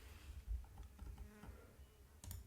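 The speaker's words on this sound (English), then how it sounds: "There's a fly buzzing around." A housefly buzzing around a room, a faint intermittent drone that comes and goes, with soft ticking noises and no voices.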